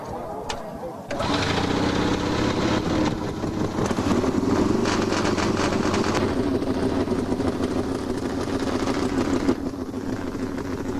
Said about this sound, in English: the internal combustion, 4-stroke, 2-cylinder Harley-Davidson engine